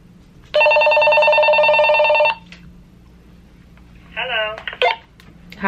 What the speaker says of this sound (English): I got these radios from my niece so that we could walkie-talkie each other